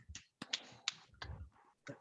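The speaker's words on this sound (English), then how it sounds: "A golfer's clap, Mr. Frank Miller." A few sparse, quiet claps from a small group at a golf trophy and award ceremony, isolated sharp hand claps with gaps of silence between them, close and soft.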